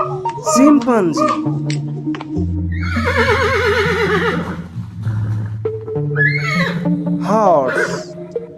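A horse neighs loudly in a long, quavering whinny that rises and shakes, followed by a second shorter whinny, with other layered animal-like sounds around it.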